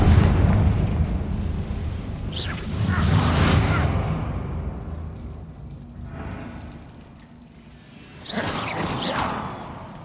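Spell explosions from Hogwarts Legacy, Bombarda and Confringo, go off as two loud booming blasts a few seconds apart over a steady low rumble.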